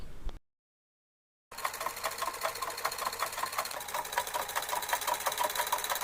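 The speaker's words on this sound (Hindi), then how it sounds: "अब हम इस डोरी को इसके अंदर कुछ इस तरह से सेट कर स्टिच कर देंगे।" A sewing machine stitches a drawstring into a fabric sleeve for a tie-up top, a steady fast mechanical whirring with even needle clatter that starts after a brief silence, close and continuous.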